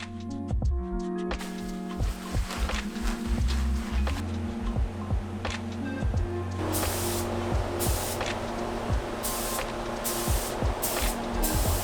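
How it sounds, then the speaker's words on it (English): A spray gun applies Cerakote coating to motorcycle parts during an RM250 rebuild, a steady close hiss with repeated short trigger pulls and bursts over an ongoing rhythmic mechanical hum, no talk. "So it's actually been over a year since I've sprayed Cerakote."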